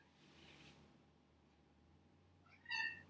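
A house cat meows during a home yoga session, a short bright call near the end following a stretch of quiet room tone.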